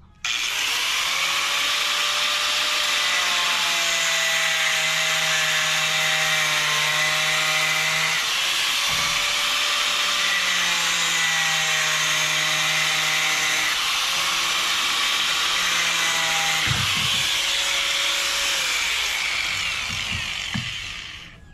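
Plastic pipe being cut for a DIY fishpond filter with a power tool, a loud continuous whining drone that holds steady with brief dips and a final rattle as it winds down.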